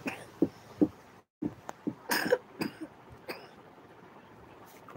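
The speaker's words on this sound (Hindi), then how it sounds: "खांसी किसको आ रही है?" Several short, sharp coughs sound one after another in a quiet room, close and irregular, with a brief pause of silence between bursts.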